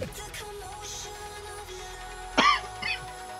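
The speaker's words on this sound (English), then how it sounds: "Stop coughing, bro" A person gives a couple of short, sharp coughs, loud and close, against a faint background hum.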